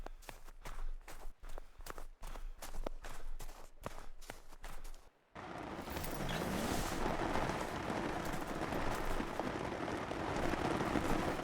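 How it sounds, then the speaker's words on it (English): Rain falling inside a tent in theHunter: Call of the Wild: crisp, evenly spaced footsteps or clicks give way to a sudden, steady hiss of rain that continues loud and unbroken to the end. "It's raining inside my tent, but nowhere else"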